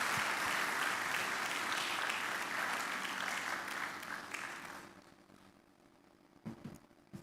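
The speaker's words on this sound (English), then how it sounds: "Can we give him another round of applause, please?" Audience applause at an EU–Nigeria partnership event, a steady broadband clatter of many hands that fades away after about five seconds into a quiet room with a few faint knocks.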